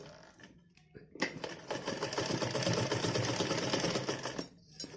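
A sewing machine stitches elastic into a baby's Holi dress, starting after a brief pause and running in a loud, steady, rapid whir for several seconds before stopping.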